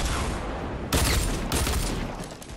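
Bursts of gunfire in the Fortnite battle royale video game, rapid shots crackling in two loud bursts over a steady background, with no voices.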